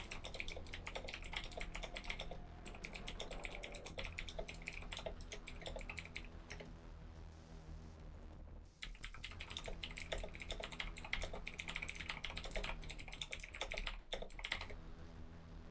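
Close, steady typing on a computer keyboard, a dense run of quiet key clicks with brief pauses, over a low constant background hum; no voices.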